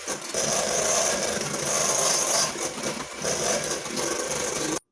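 A cold stick of Blue Bonnet margarine creamed in a bowl with an electric mixer, a steady loud whirring and rubbing drone close by, running continuously before cutting off, with no talk.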